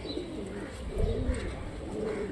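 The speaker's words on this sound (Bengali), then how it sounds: "কিছু কবুতর ছেড়ে দেওয়া হলো যাতে কবুতরগুলো বাসাতেই নামে।" Several Rajshahi tumbler pigeons coo near the loft, some released to settle back home. The low, rolling coos repeat and overlap over faint background noise, and no one speaks over them.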